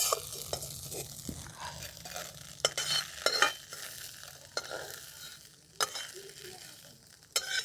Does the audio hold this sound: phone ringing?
no